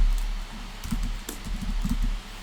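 Computer keyboard typing while entering SwiftUI code, with soft irregular clusters of key taps in quick bursts, close and fairly quiet, no talking.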